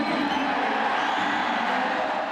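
Large football crowd at Gigg Lane roaring and cheering in celebration, a dense, continuous wall of voices held at steady loudness throughout.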